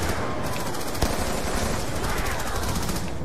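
Sustained automatic fire from an M1927 submachine gun in Black Ops 2 zombies, a rapid even stream of shots packed tightly together, loud and continuous with one sharper crack near the start.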